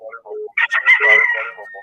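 A rooster crows a full cock-a-doodle-doo, loud and close, with a few short clucks before the call and a trailing note at the end.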